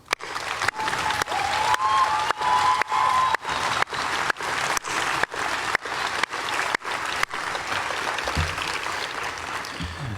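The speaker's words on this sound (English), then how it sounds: "Please join me in a round of applause" An audience at an army infantry graduation ceremony applauds outdoors, steady dense clapping from a large crowd lasting about ten seconds, with regular brief dropouts breaking it up.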